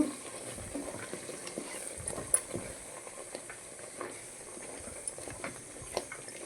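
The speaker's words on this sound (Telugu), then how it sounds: "కారం వేసుకుంటున్నాం మనము కొంచెమే కారం ఇవన్నీ మంచి కలిపేసుకుందాం మనము" A spoon stirs chili powder into white brinjal curry in a sizzling pan, with soft scraping and faint frying crackle under a steady hiss, quiet and close, with no voices.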